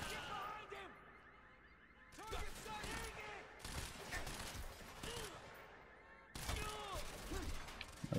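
Light machine gun fire in the shooter game Quantum Break, with bursts of rapid shots and impacts against background game effects, at fairly low level.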